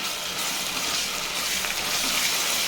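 Ginger garlic paste sizzles and crackles in a hot pan while being sautéed for tomato rice, a dense steady frying hiss heard up close with no talking.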